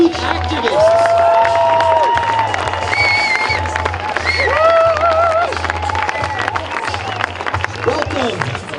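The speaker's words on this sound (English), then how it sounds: "Adults, a round of applause for these youth activists." An outdoor climate strike rally crowd applauds and cheers for youth activists, with dense clapping mixed with whoops and shouting voices. The noise stays loud and sustained throughout.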